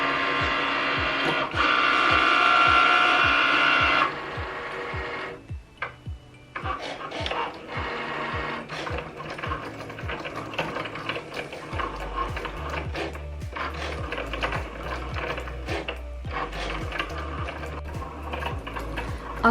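A Cricut Maker cutting machine slicing everyday iron-on vinyl at default pressure: a loud steady motor whir for several seconds, then a run of rapid mechanical ticks and carriage movements with low thuds, continuing without speech.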